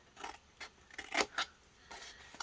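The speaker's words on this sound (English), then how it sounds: "We're going to cut straight up on those score marks." Scissors snipping through scored cardstock for a handmade card, a handful of quiet, close cuts in an uneven rhythm with soft rustling of paper between them.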